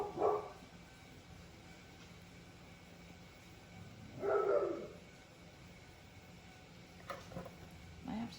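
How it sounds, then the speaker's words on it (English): Dogs barking in short bursts, a couple of distinct barks a few seconds apart, moderately distant and fairly quiet, with a few faint knocks after. "get my dogs back in the house so that they'd stop barking"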